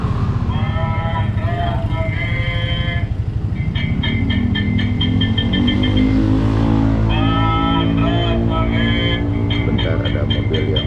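A car arrives to park, its engine droning close and loud with a revving pitch that rises and shifts, while harmonic tones and a faint voice sit over it.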